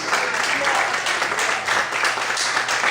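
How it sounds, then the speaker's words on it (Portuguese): Church congregation clapping loudly in praise during a Sunday service, a steady wash of applause throughout the short stretch with a voice faintly audible underneath. "Você pode aplaudir a Deus bem forte"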